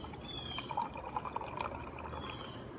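Brooklyn Brewing Sorachi Ace, a golden beer, being poured gently into a glass, giving a soft, steady liquid trickle with faint splashy glugs, quiet and close, no talking.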